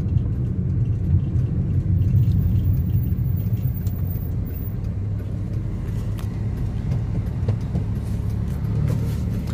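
A Maruti WagonR drives at speed while being steered, giving a steady low road rumble and engine hum from inside the car that holds constant throughout with no talking.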